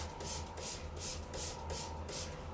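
Water is sprayed onto a deep wave wig in a series of about seven quick, soft hissing bursts from a spray bottle, evenly spaced and close, with no talk.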